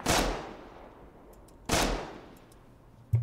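Gunfire in the video game Rust: two sharp, loud shots about a second and a half apart, each with a long echoing tail, then a third shot cut off at the very end.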